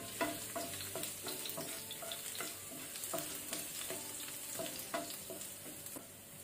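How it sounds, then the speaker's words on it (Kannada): Garlic fries in a pan for pineapple fried rice with a soft, constant sizzle, broken by a regular series of sharp scraping strokes as a spatula stirs it. There is no talking. "ನಾನೀಗ ಡೈರೆಕ್ಟ್ ಗಾರ್ಲಿಕ್ ಹಾಕೊಳ್ತೇನೆ, ಬೆಳ್ಳುಳ್ಳಿ, ಸೊ ಇದರ ಲೈಟ್ ಕಲರ್ ಚೇಂಜ್ ಆಗಬೇಕು"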